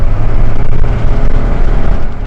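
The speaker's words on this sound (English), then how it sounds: "as I'm giving the car a little bit of gas, just how loud that engine is" A 2024 Mitsubishi Mirage engine drones loudly under light acceleration at about 25-30 mph, a steady low whining hum with road and cabin rumble and no voices.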